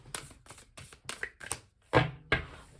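Crisp bursts of cards riffling and snapping together, several short shuffles in quick succession, close up with no talking.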